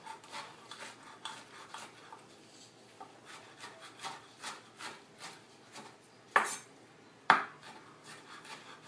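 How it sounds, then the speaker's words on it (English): A knife chops vegetables on a wooden board for cheesy stuffed zucchini, a steady run of soft close-up cuts and scrapes with two sharper knocks near the end. "Just go ahead and just chop it up."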